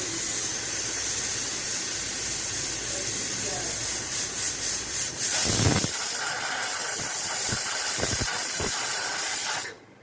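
A pressure cooker on a gas stove, cooking potato filling for aloo paratha, lets off a loud, steady hiss of escaping steam that runs almost the whole time, with a brief louder burst midway before cutting off.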